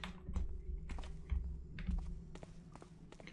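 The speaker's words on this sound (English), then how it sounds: "There's my lockpicks open it." Lockpicks working a locked door in the Thief stealth game: a run of small dry metallic clicks and ticks, close and fairly quiet, spread irregularly over a faint steady hum with no talking.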